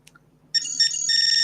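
A cell phone ringtone with a Cyberpunk 2077 style interface starts abruptly after a moment of near silence, a bright, sustained electronic melody playing loudly and close with no voices over it.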